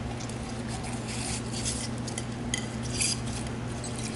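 Mint leaves being muddled in a cup for a mint julep, a continuous close grinding and scraping with light metallic clinks over a steady low hum.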